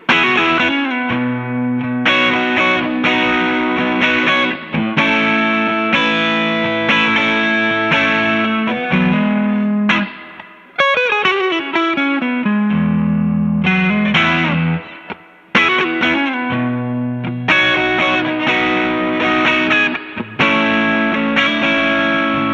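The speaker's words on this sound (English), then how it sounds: "me playing it with a Strat and just using the amp on its own for all the sounds" Electric guitar, a Strat through a hand-wired tube amp, with a warm, overdriven tone and a touch of reverb, strummed chords and melodic runs playing continuously and loudly.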